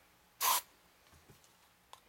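Short burst of cooking spray from an aerosol can, used while loading a mini potato cannon; a single hissing spray of about a quarter second, near and fairly loud, with faint clicks afterward.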